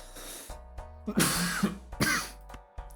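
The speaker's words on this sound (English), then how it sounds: "Coughing into the mic once again." Several sharp coughs and throat-clearing bursts close to the microphone, spaced irregularly with brief quiet gaps between them.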